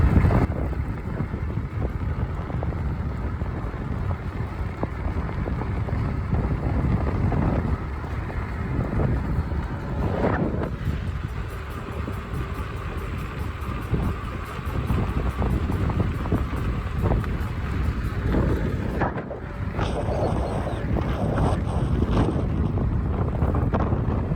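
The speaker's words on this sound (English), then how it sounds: "Wind is strong." Strong wind roaring and buffeting across the microphone while riding an Ecotric electric fat tire bike outdoors, a loud continuous rushing that swells and dips, with no talking.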